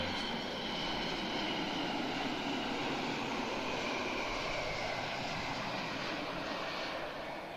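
Steady, broadband roar of KC-135 aircraft engines, a continuous even rush that holds at a constant moderate level with no voices.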